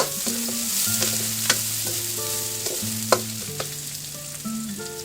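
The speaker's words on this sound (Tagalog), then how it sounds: "Nagigisa ako mga kadiskarte. Inuuna ko talaga yung sibuyas. Tapos yung bawang." Onion and garlic sautéing in a pan, steady stirring and frying noise up close with scraping accents, several louder clanks and a bright clear tone sounding over it, no talking.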